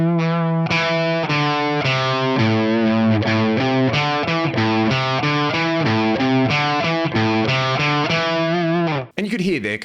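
A distorted electric guitar plays a minor scale lick that climbs with a position shift, running a steady stream of sustained notes before stopping with a short noisy cut, heard alone with no talk.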